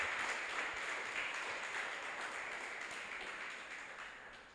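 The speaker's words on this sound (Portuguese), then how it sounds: "Aplauda o Senhor então." A church congregation applauding together, a dense steady wash of many hands clapping at moderate distance, fading slightly toward the end.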